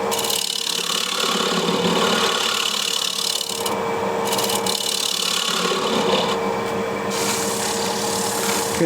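A steel card scraper's edge is drawn against a burnisher to raise a fresh burr, giving steady, continuous scraping and rasping strokes that stay close and fairly loud, with brief pauses between passes.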